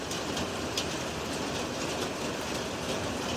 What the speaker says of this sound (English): Oh no, that sounds like hail.